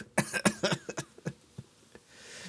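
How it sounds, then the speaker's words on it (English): A person coughs repeatedly while laughing, a run of sharp bursts in a broken rhythm that trails off into quieter gasps, close and fairly soft. "See, I'm coughing while I'm laughing."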